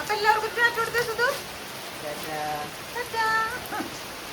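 Rain falls steadily outdoors, a constant soft hiss beneath a person talking intermittently close by.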